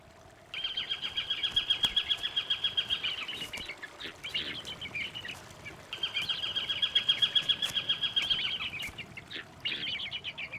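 Repeated high, rattling calls from eagles crowded on riverbanks in Canada in mid-December come in two long bursts, loud and close, with brief quieter gaps of chatter between them.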